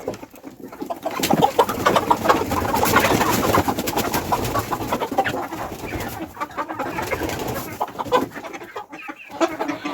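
Three-month-old chickens cluck and chatter in a backyard coop, a busy overlapping flock of close, fairly loud calls that rise and fall with brief lulls.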